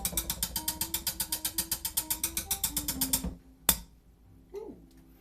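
A big whisk beats a thickening batter in a bowl, giving a fast, steady run of about two dozen rhythmic scraping strokes, close and clear, that stops abruptly, followed by a single sharp clack and a brief murmur.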